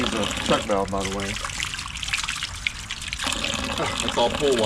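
Chlorinated pool water gushes and trickles out of a drainage pipe from a newly installed pool sump pump, a loud steady splashing stream, while someone talks over it.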